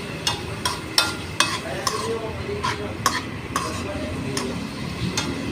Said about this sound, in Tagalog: Halu-haluin lang siya ng mga buti